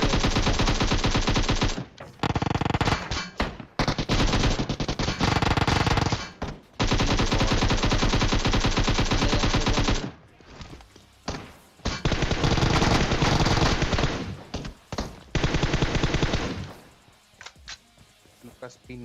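Long bursts of rapid automatic gunfire from PUBG Mobile, broken by brief pauses, loud and continuous with game effects around them.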